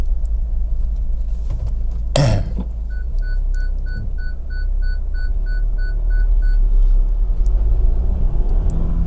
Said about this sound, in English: I don't normally get a lorry of this size coming down this lane